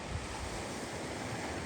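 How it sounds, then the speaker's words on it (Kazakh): Sea waves wash steadily against the shore in a continuous, soft surf roar mixed with wind noise, with no voices. "Енді қазір теңіз қозғалыста."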